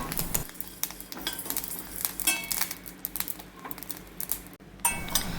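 Shallots and curry leaves fry in a pan with a soft continuous sizzle, broken by frequent scraping and clinking of a utensil stirring against the metal.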